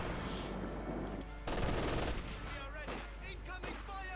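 Battle in the real-time strategy game Company of Heroes 2, dense bursts of rifle and machine-gun fire with heavy impacts layered over a constant rumbling battlefield din, loud and busy throughout.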